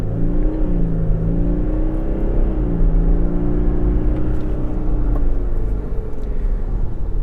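A 2025 Toyota Land Cruiser ZX LC300 pulls away at full throttle in sport mode, its engine a loud, steady, droning rumble with a low pitch that climbs and wavers slightly as it accelerates, heard from inside the cabin.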